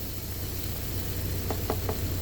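A steady frying sizzle fills the clip, with a few soft knocks near the end as microwaved potatoes shift in a hot pan.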